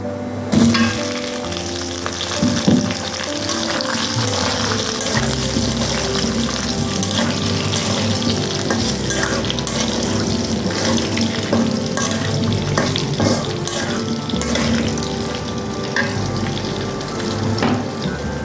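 Potato pieces frying with bay leaf in oil for potato pulao, a steady loud sizzle with occasional stirring clatter throughout, no voices.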